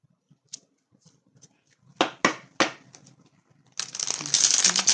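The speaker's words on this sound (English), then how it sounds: "I just love shuffling the cards." Tarot cards shuffled by hand: a few faint taps, then several sharp riffling bursts and a sustained papery flutter at the end, close and fairly clear against a quiet room.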